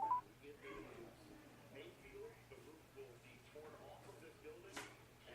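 Telephone keypad tones entering a host PIN on a call-in radio line, a sparse series of short beeps scattered over a steady low hum, with faint voices and background talk.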